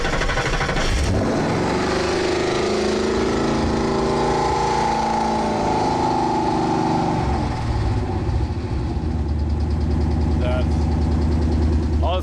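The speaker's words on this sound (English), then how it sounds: "I got exhaust ticking a little bit here, but the smoke is embarrassing" Ford Mustang donor car engine idling with an exhaust tick and heavy smoke, a steady close rumble with a light rapid ticking texture, someone speaking over it for much of the time.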